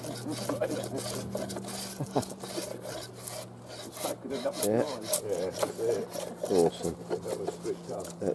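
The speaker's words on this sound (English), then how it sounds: "flattening that piece of timber down." A piece of timber is flattened by hand at a wild camp, a steady back-and-forth rasping and scraping of wood close by, with a low hum and a few brief voice sounds underneath.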